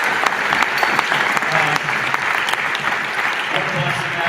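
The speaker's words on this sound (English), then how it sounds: "Can we give a round of applause?" An audience at a Renew Chicago concert applauding, a dense sustained wash of clapping from a large crowd that stays steady and fairly loud from start to finish.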